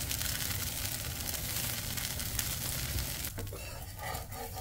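Dosa batter fries in oil on a hot pan, giving a steady close sizzle that thins into crackling toward the end, with no talking.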